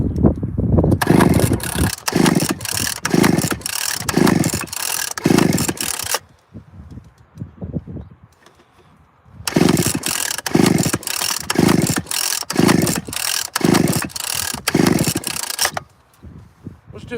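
A chainsaw engine starts and runs in two long bursts of loud rhythmic buzzing and revving, split by a quieter idle with clanking handling noises, close and dominant with no talk over it.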